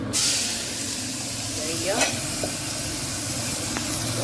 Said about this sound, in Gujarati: તેના માટે આપણે એનો ગ્રેવીનો વઘાર કરી રહ્યા છીએ